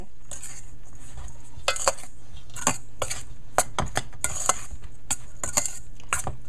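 Roti dough ingredients, with a tablespoon of salt, stirred and blended by hand in a bowl, giving a run of sharp scraping knocks and clinks of utensil on dish in an irregular rhythm, close and clear with no talk.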